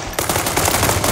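Rapid automatic gunfire from a military shooter video game, loud and continuous bursts following one after another over a dense battle din, with no talking.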